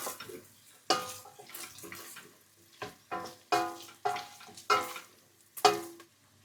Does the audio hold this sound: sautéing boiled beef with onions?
yes